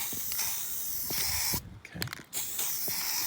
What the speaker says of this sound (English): I'm just going to spray from a bit further away there